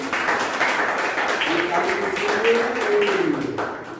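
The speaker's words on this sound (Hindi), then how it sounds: "सबको ताली बजा दो।" Children in a group clap together at a school voter-awareness quiz competition, a dense, steady patter running throughout while a voice talks over it.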